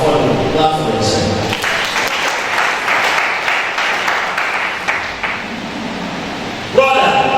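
A church congregation clapping for themselves at a marriage teaching service, a broad wash of sustained applause lasting several seconds, loud and continuous, fading toward the end as other sound returns.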